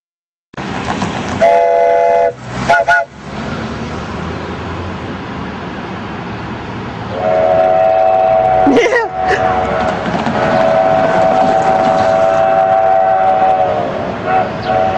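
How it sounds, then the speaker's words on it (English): The Durango and Silverton train arriving, with a loud sustained horn blast near the start and a long steady horn tone later over rumbling rail noise, close by, with people talking. "The train should be coming in pretty soon."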